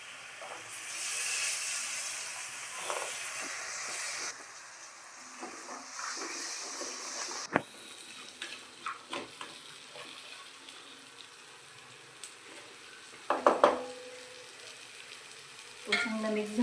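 Washed green peas frying in a pan for an aloo-matar dish, a steady close sizzle and hiss that fades a little midway, joined later by a few clinks and stirring knocks, no talking.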